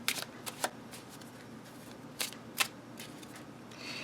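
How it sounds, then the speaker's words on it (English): A Lenormand card deck being shuffled, giving sparse, quiet riffling bursts with a few sharper snaps and a longer rustle at the end, close by with no voices. "And what you do is you shuffle"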